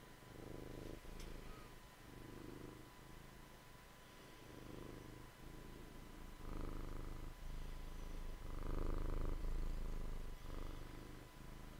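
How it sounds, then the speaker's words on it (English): A cat purrs right beside the mic at a crafting table, its soft rumble pulsing in slow, steady breaths for about twelve seconds, with no talking. "Sorry if you guys hear purring."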